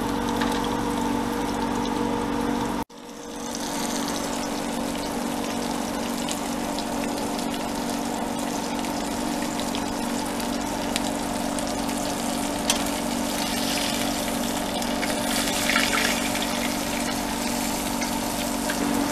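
A pot of water for cooking blue crabs comes to a steady rolling boil, a continuous bubbling wash that runs on evenly and up close after a brief cut near the start, with no talking.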